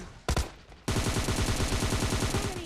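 Rapid automatic gunfire in PUBG Mobile Lite: a short early burst, a brief pause, then a dense, loud, steady stream of shots running to the end, with no talking.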